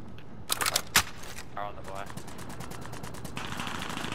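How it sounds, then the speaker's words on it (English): Gunfire in a multiplayer shooter game, a few sharp loud bursts early on followed by a fast rattling string of automatic shots, with players talking over it. "You're getting shot by someone else."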